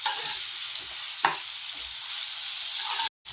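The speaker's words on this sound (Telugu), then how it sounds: "ఇప్పుడైతే చికెన్ అయితే వేసేసుకుంటున్నాను. వేసుకొని ఇప్పుడు బాగా మిక్స్ అయితే చేసుకోవాలి." Chicken is stirred into softened onions in a pan, giving a steady, loud sizzling hiss with a single scrape of the utensil. The sound drops out abruptly just before the end.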